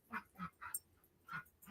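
A dog gives a string of short whimpering, yipping cries, five or so close-spaced calls with brief gaps, fairly near and alone in a quiet room.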